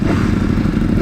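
A Ducati Panigale V4 R superbike engine idles in neutral with a steady, loud low rumble and mechanical clatter, held below its 4,000 rpm rev limit, with no talking.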